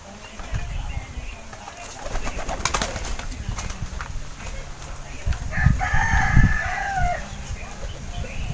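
A bird calls with a warbling, rising-and-falling cry near the end, over background rustling and faint voices.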